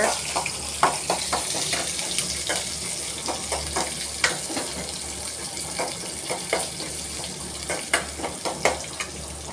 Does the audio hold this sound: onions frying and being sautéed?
yes